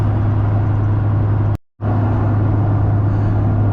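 A Duramax diesel pickup truck with a cheap cold air intake drives along, a loud steady low engine drone and road rumble that cuts out abruptly for a moment before resuming unchanged.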